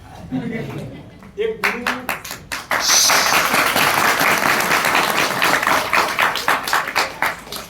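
Audience at a Jain children's gathering breaks into loud, sustained clapping after a few scattered claps, the applause swelling and holding steady, with some talk before it starts.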